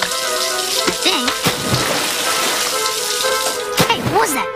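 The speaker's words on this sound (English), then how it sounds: "It's raining, I think." Rain hisses down steadily in a cartoon scene, a dense continuous wash of sound with voices breaking in over it.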